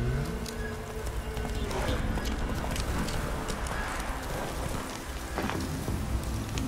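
Roach the horse from The Witcher 3 moves through steady rain, with continuous clip-clop hoofbeats under a constant patter of raindrops. A faint voice may be present.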